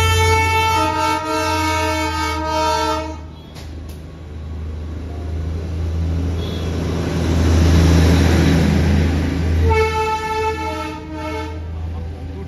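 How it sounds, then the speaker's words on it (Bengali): The Darjeeling toy train stands at misty, rainy Ghum station and sounds its horn in long steady blasts at the start and end, with a broader rumble of engine and rain in between. Nobody talks. "তো টয় ট্রেন নিজের চোখে আমি এই প্রথমবার দেখলাম"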